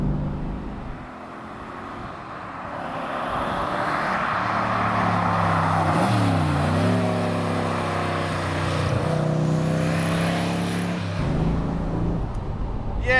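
A DeTomaso Pantera GT5, a mid-engine car, is driven with its engine droning loudly and steadily, the pitch swelling and dipping through changes in speed, with no talking over it.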